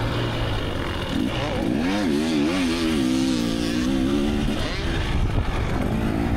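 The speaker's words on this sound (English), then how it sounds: "It's an amazing dirt bike and I love it. Two-stroke, love the way it sounds, plenty of power" A 1986 Honda CR250 two-stroke dirt bike engine at a motocross track revs loud and close, its pitch rising and falling in a continuous buzzing drone.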